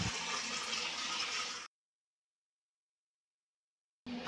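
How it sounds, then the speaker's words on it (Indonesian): Steady rushing of water from a float valve tap filling a tank, loud and continuous, cutting off abruptly into silence before resuming briefly at the end. "keran pelampung mulai mengisi air baru"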